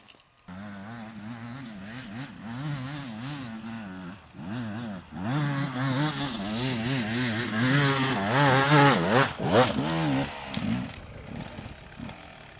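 A dirt motorcycle revs hard climbing a steep, slippery grassy hill on a New Zealand ridge, engine pitch rising and falling in repeated surges, loud and close, building to a sustained roar before dropping off near the end.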